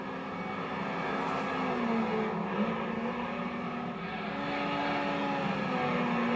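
Race car engine from a Gran Turismo 3 lap replay in arcade time trial, a steady droning roar with slow pitch shifts as gears and speed change, continuous and fairly loud with no talk.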